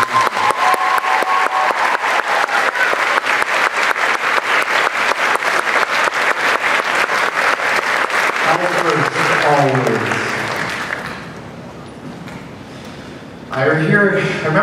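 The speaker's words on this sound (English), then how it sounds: "Please applaud Marie." Sustained audience applause for a Director Award winner at a senior awards ceremony, dense rhythmic clapping for about ten seconds, then thinning as voices come in and a speaker begins talking.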